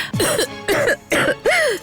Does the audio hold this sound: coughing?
yes